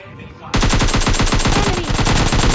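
Rapid automatic gunfire from PUBG Mobile Lite bursts in suddenly after a quiet moment and continues as a loud, steady stream of shots.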